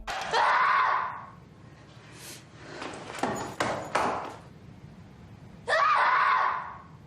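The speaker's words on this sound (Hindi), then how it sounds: "फ्रस्ट्रेट होकर कुछ यूं चीखती है" A girl in a Chinese school drama lets out two loud, sustained frustrated screams, with a burst of sharp smacking and clattering noises between them.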